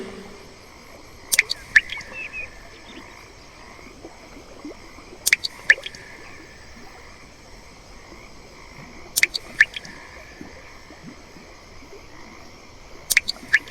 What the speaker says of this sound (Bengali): টুকটাক টুকটাক, যেন জলের ফোঁটা পড়ছে দূরে কোথাও।